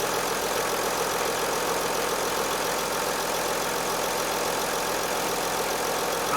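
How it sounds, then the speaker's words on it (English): A Mercedes Sprinter van engine idles in an even, continuous hum heard close up from the engine bay, steady throughout with no other sounds. "the engine is running"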